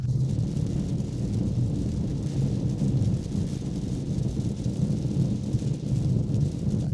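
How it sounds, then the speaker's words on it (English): Steady rain and wind roar around a Peugeot 3008 Hybrid 136hp on the move, a dense, even low rumble with hiss that stays constant and fairly loud throughout, with no voices. "The sounds of the rain reduce a bit what we normally hear."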